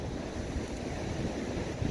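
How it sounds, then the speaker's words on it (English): Strong gale-force wind buffets the microphone outdoors in Bristol as a storm arrives, a continuous rough roar with low gusty rumbles and no voices. "filming from wild and windy Bristol"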